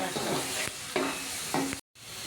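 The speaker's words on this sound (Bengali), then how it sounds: "পেঁয়াজটাকে এবার বাদামি করে ভেজে নিব।" Onions browning in a hot pan sizzle loudly while a spoon scrapes and stirs them in quick repeated strokes, with a brief silent cut near the end.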